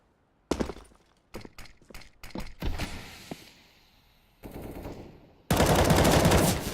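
Counter-Strike gunfire sprays through smoke in several sharp bursts of rapid shots, separated by brief pauses and ending in a loud, sustained volley.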